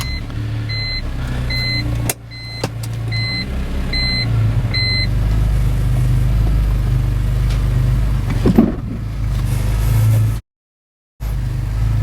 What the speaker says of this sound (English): now you want to turn the M3 on and drive it carefully onto the ramps